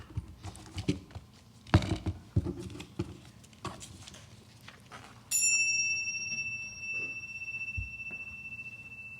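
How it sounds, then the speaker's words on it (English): A few soft taps and knocks, then bright chimes ring out together and sustain, their tones slowly fading with a long shimmering decay. "let us center our hearts and minds with the ringing of the chimes."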